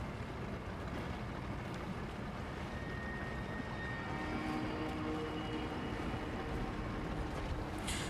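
Wooden boat gliding across water in the horror game REANIMAL, a steady wash of water and wind that holds at an even level the whole time, with faint creaks, no voices.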